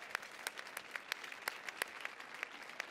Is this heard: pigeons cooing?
no